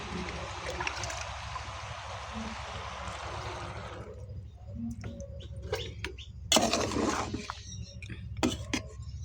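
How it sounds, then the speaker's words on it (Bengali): Water pours steadily into a cooking pot with eggplant for fish curry for a few seconds, then stops, followed by clinks and clatter of utensils against cookware. "এখন আমি এখানে পানি দিব"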